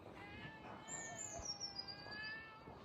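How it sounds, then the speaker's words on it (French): Cat meowing outdoors in a quiet street setting, a drawn-out, wavering meow rising and falling over about two seconds, faint and moderately distant with light background hiss. "Oh le chat."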